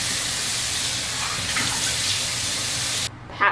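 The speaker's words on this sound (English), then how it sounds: "let me rinse this off" Tap water gushes steadily into a sink while hands are rinsed, a loud close hiss that stops abruptly near the end, followed by a brief splash.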